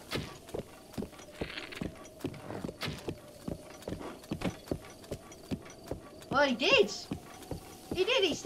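Horse galloping in Breath of the Wild, a steady rapid clip-clop of hooves at close range across the whole stretch, with a voice talking over the later part.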